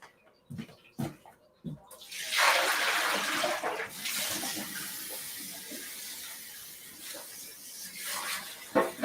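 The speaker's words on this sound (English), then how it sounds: "And then you just fill it back up with water." Tap water runs steadily into a container being refilled after rinsing, a loud, continuous splashing rush that starts after a few soft knocks and handling sounds and keeps going to the end.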